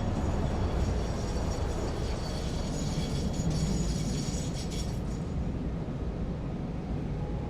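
Trains in the video game Satisfactory rumble continuously past, a dense, loud rolling roar with faint metallic clatter and rattles midway, no voices over it.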